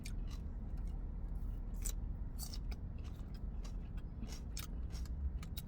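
Someone chews a crunchy, vinegary celery salad up close, sharp crunching bites and snaps repeating over a steady dense background, with no talking.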